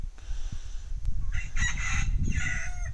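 Chickens on a homestead cluck and a rooster crows nearby, strained calls rising over a low rumble of background noise and scattered bird sounds.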